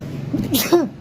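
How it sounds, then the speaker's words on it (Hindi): A single sharp human sneeze, close and loud, with a brief inhale leading into the burst, set off by dusty quilts and bedding. "मुझे इतनी छींकियाँ आई यार"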